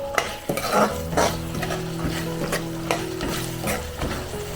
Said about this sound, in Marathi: दोन मिनटं चणे चांगले मध्ये फ्राय करून घेऊया आपण गॅस जरा मोठंच ठेवायचं आहे